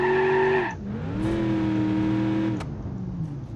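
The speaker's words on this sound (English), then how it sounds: "Toggle nitrous injection, activate now." A car engine with nitrous injection in BeamNG.drive revs hard, then its pitch dips and climbs back to a steady high drone, with a sharp crackling burst near the end and no voices.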